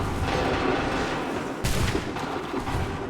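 A musket volley in the Assassin's Creed 3 Remastered video game, with dense, rolling gunfire and booming reports that swell midway, loud and sustained without a pause.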